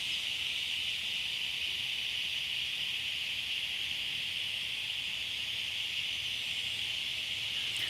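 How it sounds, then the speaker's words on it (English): Cicadas sing outdoors in a loud, unbroken, shrill drone that holds steady throughout, with no voices. "cicadas are such a beautiful sound"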